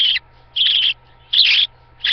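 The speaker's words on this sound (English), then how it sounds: "Parakeet." A baby parakeet gives repeated high, raspy calls, four short bursts in a steady rhythm with brief pauses, close and clear with no talking.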